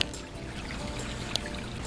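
Water trickles steadily down a small tiered backyard pond waterfall, a soft, continuous, faint splashing with no voices.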